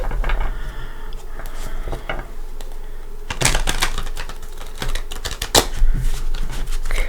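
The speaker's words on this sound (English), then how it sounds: "I'm going to give it a couple shuffles." A deck of tarot cards is shuffled by hand in a couple of bursts of dense, crisp riffling clatter, loud and close with no talk over it.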